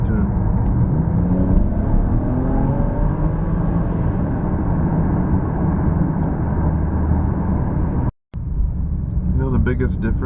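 A BMW E90 335i engine running an MHD flash tune drones loud and close, its pitch rising and falling with throttle, broken by a brief dropout near the end.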